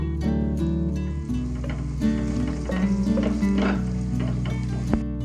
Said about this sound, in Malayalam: അതും കൂടെ ഇട്ട് നല്ലോണം ഒന്ന് വഴറ്റി കൊടുക്കണം